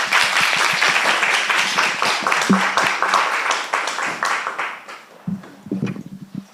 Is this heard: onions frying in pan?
no